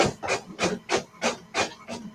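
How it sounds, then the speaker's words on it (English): A printer runs during a live sports show broadcast, giving out a steady series of seven rhythmic mechanical clicks and rasps about a third of a second apart, close and clear, with no talking. "Oh, it's Coach's printer."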